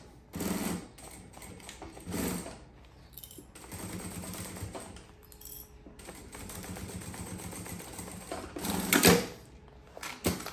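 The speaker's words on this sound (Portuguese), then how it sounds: "vem passando uma costurinha aqui com um pezinho de máquina" A sewing machine runs a stitch along a folded fabric edge, its close mechanical whirring in several short bursts and longer steady runs with brief pauses between.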